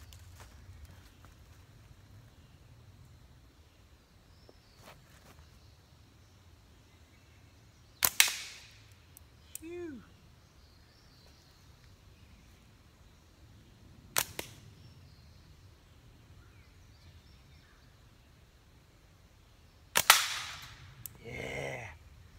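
Three sharp, loud gunshots aimed at a target outdoors, spaced several seconds apart against a quiet background, one followed by a brief ricochet off a tree.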